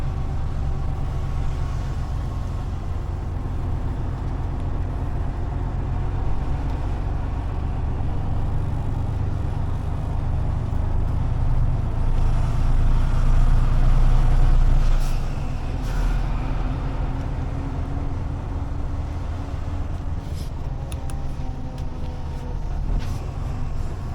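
A truck hauling agricultural machinery drives off, its engine droning steadily and loudly from the cab with road rumble, swelling briefly around the middle and easing as it continues on its way.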